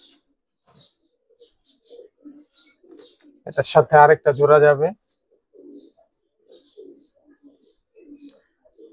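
Ringed Giribaz pigeons give soft, short coos at intervals, close and fairly quiet, while someone speaks briefly in the middle.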